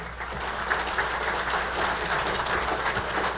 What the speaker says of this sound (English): If you could also give a round of applause for Dave Boffman and Dave Cameron